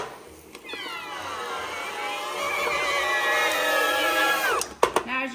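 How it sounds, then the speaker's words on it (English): A flour tortilla in a tortilla press gives a loud, high squeal as trapped air escapes, one long rising and wavering cry that lasts several seconds before a few clicks and knocks, close up with no talk. "I think it's the air inside the tortilla coming out that makes it scream like that"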